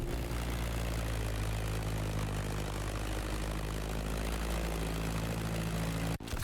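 Stagger Wing biplane in The Crew Motorfest droning steadily overhead, a loud, continuous propeller engine hum with a brief dropout near the end.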